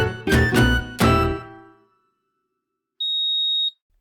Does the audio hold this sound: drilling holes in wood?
no